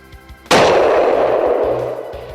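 A single loud, close rifle shot fired at a large bull during a hunt cracks sharply and then rolls into a long, fading echo across open country.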